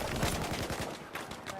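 Gunfire in a Battlefield 4 Domination match comes as rapid, rattling bursts of automatic shots close behind the player, loud and continuous across the short moment.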